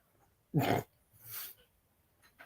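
A dog gives one loud, sharp bark followed by a softer, breathier whining call, close by and otherwise quiet.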